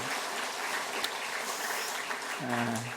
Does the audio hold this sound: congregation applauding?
yes